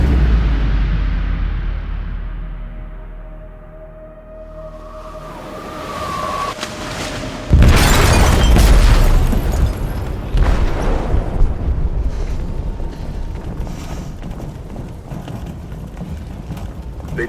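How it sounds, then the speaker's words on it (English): Explosive detonating in a ship's hold in Detroit: Become Human. A low, swelling rumble builds, then a sudden loud blast hits midway and trails into a long, heavy roar of debris and turbulence. "They detonated an explosive in the hold."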